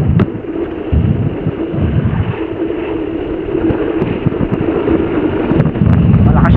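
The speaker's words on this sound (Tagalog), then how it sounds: "Malakas yung hangin hindi makasumba." Strong wind roars against the microphone during a road cycling race in Pangasinan and Nueva Ecija, a loud, steady low buffeting with a commentator talking over it.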